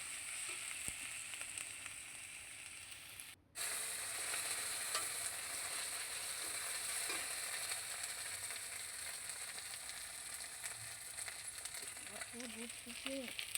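A ginger-garlic spice paste fries in a pan while being stirred, giving a continuous bright sizzle heard close, with one brief dropout and faint scraping near the end.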